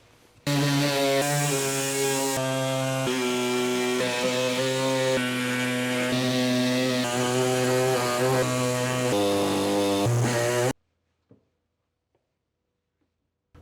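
A power tool cuts through the metal body of a van for a pill window, a loud continuous high-pitched whine that holds for about ten seconds, shifts in pitch as it works, then stops abruptly into near silence.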